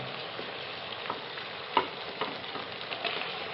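Chicken pieces fry in browned masala in a pan, a steady bright sizzle with soft stirring scrapes and small pops, close and continuous with no talking.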